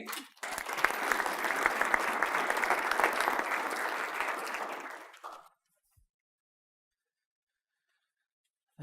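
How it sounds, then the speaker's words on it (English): An audience at a hearing-clinic event in Sedalia breaks into steady applause, with many hands clapping at once. It lasts about five seconds, then stops abruptly and is followed by silence. "So guys, please put your hands together for Jerry."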